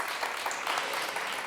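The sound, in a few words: audience applause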